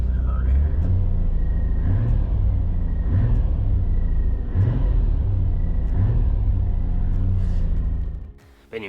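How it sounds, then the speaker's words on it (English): Nissan Skyline GT-R R33 V-spec engine revving close by in a loud, sustained drone with repeated rhythmic blips of throttle, cutting off near the end. "when you're ready to do your tuning and map, you can see when I rev it over here"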